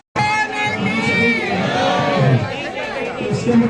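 Crowd of devotees gathered at Chitrakoot on Guru Purnima, a loud, dense babble of many voices with shouts and chanting rising and falling, near and continuous.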